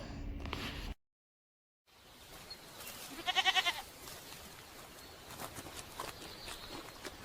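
A goat gives a short, wavering, pulsed bleat midway through, after a brief silent gap, over faint background rustle and no speech.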